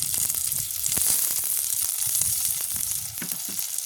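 Onion, green chili and garlic fry in hot oil in a pan for a squid dish, a dense close sizzle with quick scraping stirs throughout.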